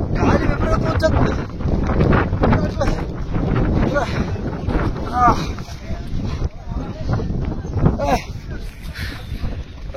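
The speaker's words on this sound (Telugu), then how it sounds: "గాలి విపరీతం వచ్చేస్తుంది." Strong wind roars and buffets the microphone on a snowy, icy mountain road in Leh Ladakh, a loud continuous rush with gusts, while people talk over it.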